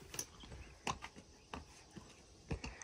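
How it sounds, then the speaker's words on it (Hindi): A horse walks at a resort in hot weather, its hooves clip-clopping in a slow, irregular series of faint, sharp knocks spaced about half a second to a second apart. "घोड़े को चलना नहीं है गर्मी लग रही है"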